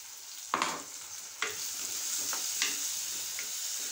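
Tomato and small-onion paste hits hot oil and sizzles steadily, broken by a few sharp spatula scrapes and stirring knocks against the pan, close and without speech.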